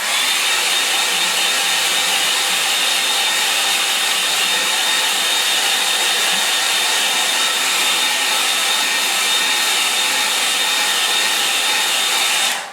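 Hair dryer blowing over a watercolour winter lake painting, a loud, steady close hiss and motor whine running unbroken throughout, with no talking.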